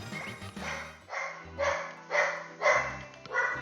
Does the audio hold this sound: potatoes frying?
no